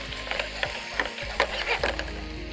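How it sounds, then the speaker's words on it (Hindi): Chicken chunks frying in a pan with soy sauce, a continuous close sizzle broken by repeated scraping and clattering stirs of a utensil against the pan at an uneven rhythm, no voices. "सोया सॉस के साथ इसको अच्छे से हम करेंगे फ्राई"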